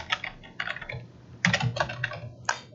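Clusters of quick key clicks from typing on a computer keyboard, close and fairly quiet, coming in short irregular bursts with small pauses between them.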